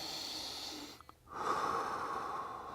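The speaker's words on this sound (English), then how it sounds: "Nice deep breath." A single deep breath during hip mobility work, a close hissing inhale followed by a short pause and a stronger airy exhale, alone with no talking.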